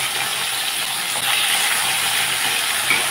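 Tangra fish dropped into hot mustard oil in a kadai give a steady, fairly loud hissing sizzle that holds evenly throughout, swelling slightly after the first second.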